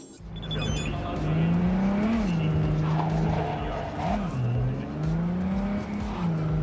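Car engine droning and tires squealing in a prolonged skid in the video game Cyberpunk 2077, a steady loud engine tone that rises and dips with the slide.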